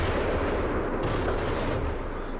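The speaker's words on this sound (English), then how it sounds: "You can hear the gun sounds here." Gunfire in a video game comes as a dense, fairly quiet wash of shots, with a few sharper cracks near the one-second mark and no speech.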